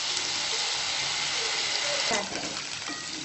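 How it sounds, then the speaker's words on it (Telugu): Potatoes sizzling as they fry in a pan of oil for a potato and green peas curry, a steady close hiss with a brief stir or clatter near the end. "ఆ పొటాటోస్ కొంచెం ఫ్రై అయ్యాయి"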